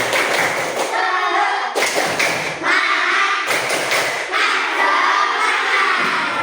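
Schoolchildren in a classroom chant together and strike broad, loud group claps in a repeated rhythmic pattern, with shouted voices mixed through the chant.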